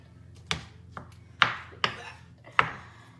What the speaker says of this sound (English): Get your spoon and kind of just slice it up into little chunks